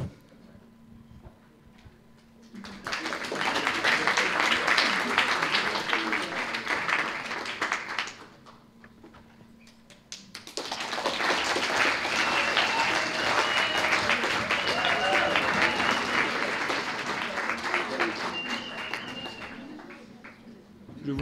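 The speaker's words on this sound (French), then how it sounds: "Je vous laisse maintenant accueillir sous les applaudissements notre dernier candidat, Émile Séguès." An audience at a French eloquence contest final bursts into loud, sustained applause for about five seconds, pauses briefly, then claps again just as strongly for the remaining ten seconds or so.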